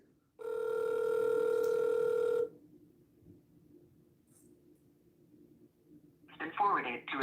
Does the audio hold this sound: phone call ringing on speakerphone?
yes